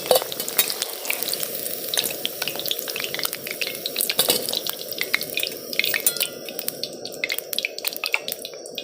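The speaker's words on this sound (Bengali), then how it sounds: "বাকিগুলো এইভাবে একটার পর একটা দিয়ে ভেজে নিই।" Young jackfruit pieces frying in oil, a continuous soft sizzle with scattered crackles and small clinks of a utensil, faint and close, with no voices.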